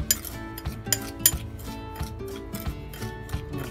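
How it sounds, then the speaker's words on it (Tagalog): A utensil stirs pork tocino marinade in a bowl, giving a run of close, light metallic clinks and scrapes at an uneven rhythm. "Ngayon, haluin natin."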